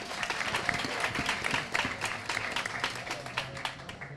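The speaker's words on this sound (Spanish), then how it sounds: "Un aplauso, por favor." An audience at a Spanish-language studio interview program claps together, a dense, even wash of many hands kept up for several seconds, moderately distant and fairly soft.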